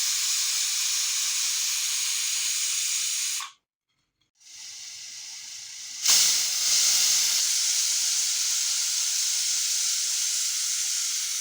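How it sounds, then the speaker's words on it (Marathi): A loud, continuous hiss of steam from a pressure cooker whistle on low gas cuts out briefly, then returns with a sharp burst and keeps going steadily. "कुकरच्या तीन ते चार शिट्ट्या घेणार मी स्लो गॅसवर"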